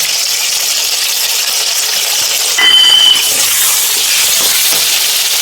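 Ginger and cumin paste sizzles in hot oil, a loud, even, close hiss that swells briefly partway through and carries on unbroken, with no voices.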